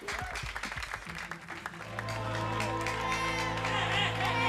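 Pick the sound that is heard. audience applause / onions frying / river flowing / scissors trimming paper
audience applause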